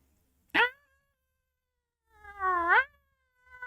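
A human voice imitates cats yowling, giving two drawn-out, rising and wavering cries, the first short and the second longer, close and clear against a quiet background.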